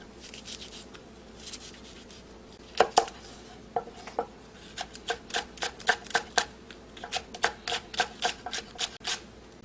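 Knife chopping green onion on a cutting board for a sweet potato pancake, a run of quick, crisp taps that starts sparse and becomes a steady, close rhythm over a quiet background, with no speech.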